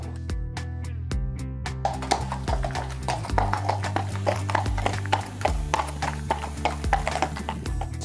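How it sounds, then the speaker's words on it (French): Horses shifting about in stable stalls, with a dense series of hoof clops and knocks on the stall floor over a steady low hum, close and fairly loud, with no talking. "On fait le tour, c'est des box pour vérifier que tous les chevaux vont bien"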